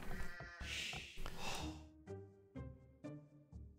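Several sheep bleat in close succession in the video game Age of Empires II, a harsh wavering bleat followed by a run of shorter, tonal bleats, fairly loud against a quiet background.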